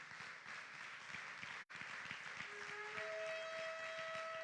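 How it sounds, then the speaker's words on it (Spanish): Congregation applause in a church: a faint, continuous wash of clapping from a crowd, with a brief dropout and a sustained tone entering near the end. "Dale palmas a Jesús esta hora."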